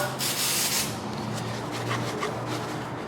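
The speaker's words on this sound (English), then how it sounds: "clean this whole mating surface off with some carburetor spray and a paper towel" Hiss of carburetor cleaner spray, then steady rubbing and wiping of a paper towel across an engine mating surface on a Chevrolet 454 big block, close by, with no talking.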